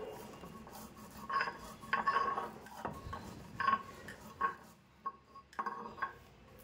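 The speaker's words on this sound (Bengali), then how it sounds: "এরপর শিলনোড়াতে আমি মশলাটা গুঁড়ো করে নেব" Roasted spices for mango pickle are crushed on a shil-nora grinding stone, making faint, uneven scraping and gritty rubbing strokes with occasional clinks, close and quiet.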